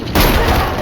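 A single sudden blast from a gunshot to the head in the video game Resident Evil Requiem, loud and close, bursting in after a brief quiet lead-in and ringing through to the end.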